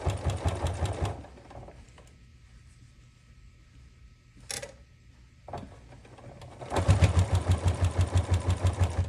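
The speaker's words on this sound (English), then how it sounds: "the slower you sew over those ties, the less they will bunch up on you" A sewing machine stitches binding onto a fabric stitch case, with two loud rapid runs of needle strokes at start and end separated by a quiet pause broken by brief handling clicks.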